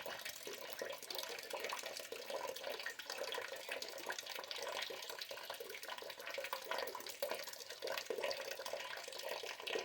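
Water drains from the sight glass of a gas steam boiler, a steady soft hissing splash that runs continuously and fairly faintly with no talk over it.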